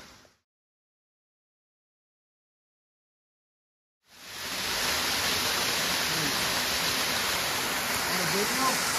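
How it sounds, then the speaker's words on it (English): Cascade Falls in Marin County pours as a dense, steady rush of falling water. It starts abruptly after a few seconds of silence and then holds constant and fairly loud, with no break. "We finally found the waterfall called Cascade Waterfalls."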